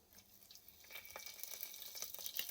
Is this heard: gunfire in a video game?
no